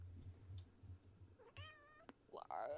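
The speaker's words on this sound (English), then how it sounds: "if you hear her zooming around, she's my cat" A house cat gives two loud, close meows, a short one followed by a longer rising one, over a low rumbling background with faint ticking.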